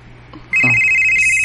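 After a quiet moment a mobile phone ringtone starts abruptly, loud and close, holding a steady electronic tone that steps up in pitch.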